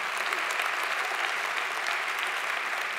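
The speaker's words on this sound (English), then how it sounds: "And let's give them a great round of applause." Steady applause from a church congregation honoring its volunteers, a dense even wash of clapping that holds for the full three seconds with no voices over it.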